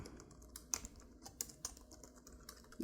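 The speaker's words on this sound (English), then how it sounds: "y'all won't hear me typing like I ain't ever typed before" Quiet, close keyboard typing, scattered key clicks with a few sharper taps, no voices.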